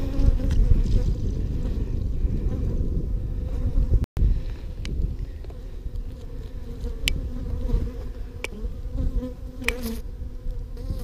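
Honey bees swarm around an opened hive during an early-season inspection, a dense, agitated buzzing hum filling the air close by, with a speaking voice briefly over it.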